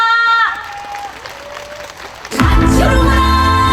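Festival audience at the Yeongcheon herbal medicine festival bursts into loud, full applause and cheering before a trot song, following a short stretch of quieter crowd murmur with a faint tonal sound.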